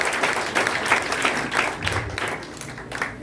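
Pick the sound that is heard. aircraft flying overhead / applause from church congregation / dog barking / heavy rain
applause from church congregation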